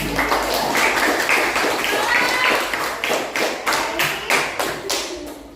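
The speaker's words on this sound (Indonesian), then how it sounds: "Ya, tepuk tangan dulu" Indonesian classroom students clapping hands, first a dense scattered burst of many hands, then settling into slower, evenly spaced unison claps, loud and close, with some murmuring voices underneath.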